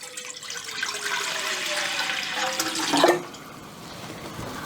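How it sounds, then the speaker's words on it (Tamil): Water pours into a cooking pot for boiling pasta, a steady rushing stream whose pitch climbs as the pot fills. It cuts off abruptly after about three seconds, leaving a quieter residual trickle. "ஒரு பாத்திரத்தில் தண்ணி ஊற்றிக்கலாம்."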